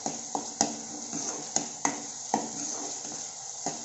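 Onions with ginger garlic paste, bay leaf and cardamom are stirred in a pan over a steady sizzle. A spoon knocks against the pan every half second or so, close up, with no voices.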